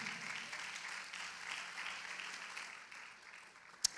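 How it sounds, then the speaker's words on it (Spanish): A church congregation applauds, a steady, moderately distant wash of clapping that fades slightly before a single sharp sound at the end. "usted le regala una vez más palmas al Señor"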